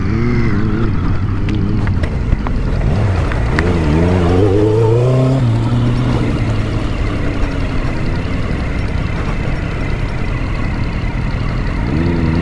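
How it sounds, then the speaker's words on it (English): A superbike revving hard off-road with its rear wheel slipping, engine note climbing and wavering in loud surges, then dropping to a rough steady roar. "my wheel is slipping"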